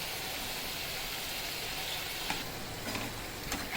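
Potato chips deep-frying in hot oil for a Tamil evening snack, a steady dense sizzle and crackle running throughout with a few sharper pops near the end.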